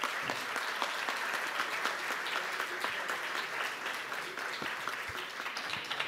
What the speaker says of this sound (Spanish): La recibimos a Mariana Carvajal con un fuerte aplauso.